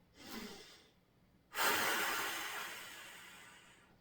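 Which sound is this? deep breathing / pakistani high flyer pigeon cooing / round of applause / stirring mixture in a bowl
deep breathing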